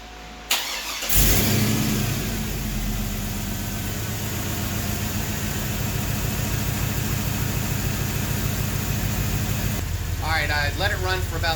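Car engine with a newly swapped 4L80e transmission cranks briefly, catches and settles into a steady close idle, with a voice speaking over it toward the end.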